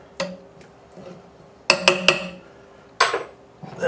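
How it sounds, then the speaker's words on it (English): A spoon stirs coarsely chopped garlic in a metal stockpot, giving a handful of sharp clinks and scrapes against the pot, clustered in quick bursts with quiet gaps between them. "Now we'll probably ought to stir those in a little."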